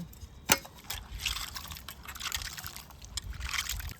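Water trickling and dripping steadily as freshly washed garlic cloves are drained in a container, a faint liquid patter close by with one brief knock near the start.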